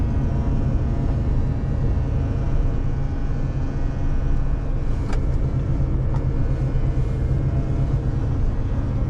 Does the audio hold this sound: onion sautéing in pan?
no